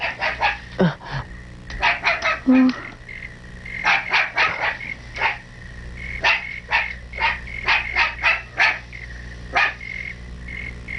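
A dog barks repeatedly in an irregular series of loud, close barks over about eleven seconds in a Tagalog-dubbed animated series, with a short animal squeal partway through and no talk.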